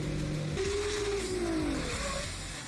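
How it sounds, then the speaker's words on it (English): Nissan GT-R VR38 engine in a drift car revving loudly and continuously, the pitch sweeping up and then falling away, with possible tire squeal mixed in and no talking. "I don't think the VR38 is that great of a sounding motor. But this one sounds really good."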